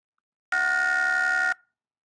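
A synthesized tone built from protein shape features sounds as one steady, buzzy, horn-like note lasting about a second, starting abruptly and cutting off cleanly against silence.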